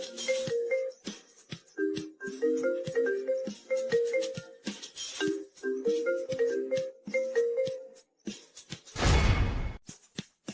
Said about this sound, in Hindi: इतनी रात को बटलर झांग ने मुझे फोन क्यों किया?